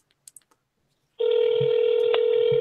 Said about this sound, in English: Oh, we're getting rings. It's not voicemail.